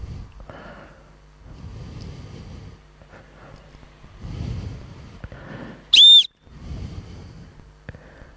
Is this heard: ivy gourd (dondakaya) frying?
no